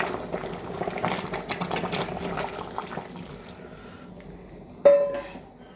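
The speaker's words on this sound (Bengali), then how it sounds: "ফুটন্ত গরম জল দেওয়া হচ্ছে।" Boiling hot water is poured into a pot of meat, giving a hissing, bubbling sizzle that gradually fades, followed by a sharp metallic clank of the cooking pan near the end.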